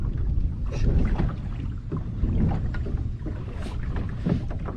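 An electric trolling motor pushes a small fishing boat at its second speed setting on a lake while a lure is trolled, giving a steady low churning hum with water wash, close and continuous without speech.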